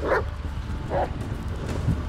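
Two distinct dog barks, spaced about a second apart, sound in the Blair Witch video game over a low forest ambience, moderately near and clear with a faint third yelp at the end.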